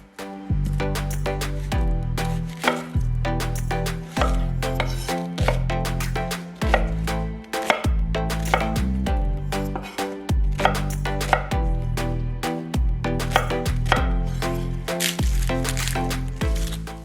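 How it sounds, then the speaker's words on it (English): A knife rough chops an onion, with steady repeated chops on a board, though loud background music with a thumping beat largely covers the cutting. "Then rough chop 1 onion."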